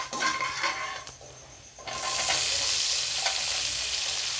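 Two large onions drop into hot oil in a pan for mushroom gravy, a brief lull followed by a loud, steady sizzling that fills the rest of the moment.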